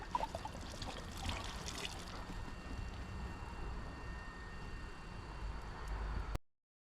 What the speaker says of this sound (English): I'm just going to tip this out, the rest of it, on this rock here.